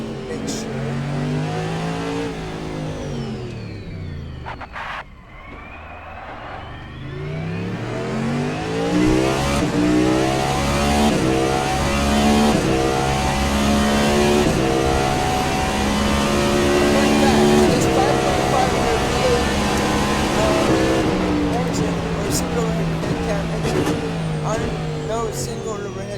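Cadillac prototype race car in a racing video game at Long Beach, its engine shared with the NASCAR Cup Series next-gen car, revving and shifting repeatedly through gears, loud and continuous with a brief lift around the fifth second.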